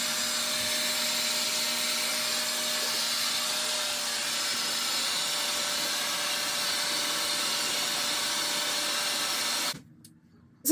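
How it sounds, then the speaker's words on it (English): A hair dryer blows steadily over a human-hair wig with a constant, close whooshing drone and a faint whine, then cuts off abruptly near the end. "I'm just going to run the dryer through the whole wig and make sure everything is nice and secure."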